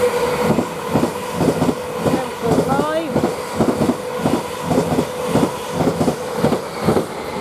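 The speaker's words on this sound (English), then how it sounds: "We've got another train coming" A train pulls into Romford station, its wheels rolling over rail joints in a steady rhythmic clatter with a brief squeal partway through, mixed with the general hum of the platform and some voices nearby.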